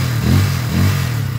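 A 200cc converted motorcycle engine revs close by in two rising and falling bursts over a steady low idle rumble, with no voices.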